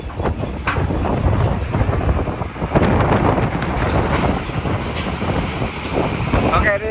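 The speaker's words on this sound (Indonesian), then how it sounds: "Gila anginnya." Strong wind buffets the microphone at Merak ferry harbour, a loud continuous roar with gusting surges, while voices talk over it.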